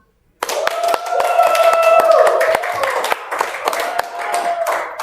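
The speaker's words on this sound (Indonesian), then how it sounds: "Tepuk tangan dong buat kita semua." A classroom of students claps their hands together, a dense sustained round of applause with a few sharp individual claps and a voice or two calling out over it, starting abruptly and running steadily throughout.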